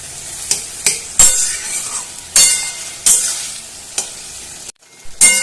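Potatoes in a poppy-seed gravy are stirred in a pan, with repeated sharp scrapes and clinks of a utensil against the metal over a low simmering sizzle, close and fairly loud.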